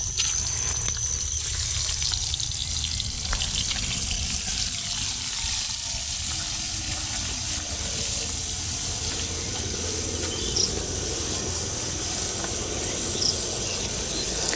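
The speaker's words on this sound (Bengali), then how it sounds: "তেল গরম হয়ে গেছে, এখন লবণ হলুদ মাখায় রাখা মাছ দিয়ে দেবো।" Koi fish coated in salt and turmeric frying in hot oil in a pan, a steady sizzling hiss that carries on evenly throughout.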